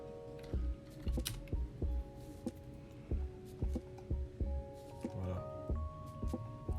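Keyboard typing on a computer while opening Google in a web browser: irregular bursts of close, crisp key clicks with short pauses between them, over a steady background hum.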